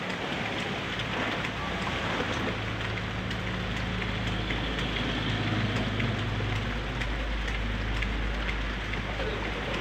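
Steady rain falls over a rice field at breakfast time, a dense continuous patter that stays even and unbroken for the whole stretch, with a low steady hum underneath.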